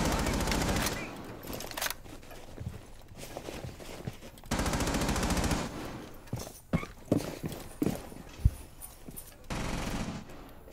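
Bursts of gunfire from Rainbow Six Siege ring out in a busy firefight, long sustained volleys giving way to scattered single shots and short bursts of varying loudness, with game effects between them and faint speech in the background.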